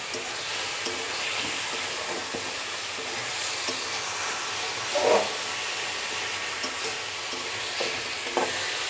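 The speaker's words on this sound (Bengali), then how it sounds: "এটাকে একটু ভালোভাবে মশলার সাথে একটু মিলিয়ে নেব" Fish and potatoes being stirred with spices in a frying pan, giving a steady soft sizzle with scraping stir strokes and a brief louder clatter midway, no talking.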